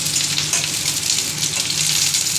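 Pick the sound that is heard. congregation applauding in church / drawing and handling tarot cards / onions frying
onions frying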